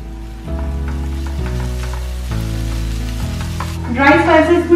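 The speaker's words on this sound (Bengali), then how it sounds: "ড্রাই স্পাইসেস গুলো অ্যাড করার পরে মশলাটাকে একটু ভালো করে কষিয়ে দিচ্ছি।" Tomato masala with turmeric, chili, cumin and coriander powder sizzles steadily in a pan, with a sharper burst of frying and stirring near the end while music plays underneath.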